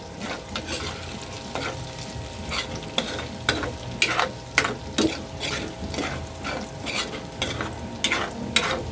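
Ginger is stirred in a frying pan, a steady close sizzle with a rapid series of sharp metal utensil scrapes and taps against the pan and no talking.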